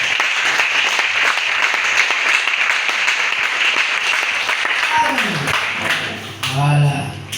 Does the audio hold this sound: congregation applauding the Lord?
yes